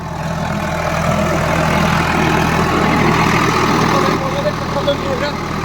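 An Eicher 551 tractor engine idles with no driver aboard, a steady loud low rumble throughout, with a person talking over it.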